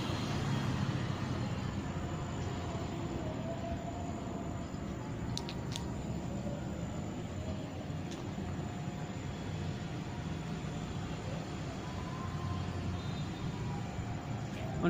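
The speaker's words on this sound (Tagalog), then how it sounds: "Dami talagang mga sasakyan." Road traffic outside an abandoned bank, with many vehicles passing in a continuous broadband roar, steady and moderately distant, broken by a few brief sharp clicks, with no speech over it.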